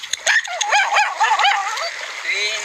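A dog at a home buried in ash from the Taal Volcano eruption gives a quick run of close, sharp yipping barks and whines that trail off into a faint whimper.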